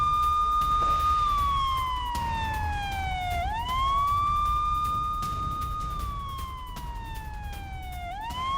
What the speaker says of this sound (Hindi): कई इलाकों में अब भी यहां पर एयर रेड सायरन बज रहे हैं